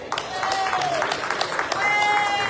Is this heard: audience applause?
yes